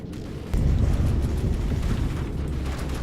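An explosion in the vehicle-combat game From the Depths hits after a quiet half-second and becomes a loud, deep, rumbling roar that holds steady to the end, with no voices.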